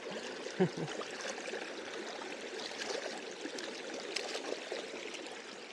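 Water running over a muddy jungle footpath in the Western Ghats forest, a soft continuous trickling and streaming wash heard from close by, fairly quiet, with one brief thump near the start and no talk.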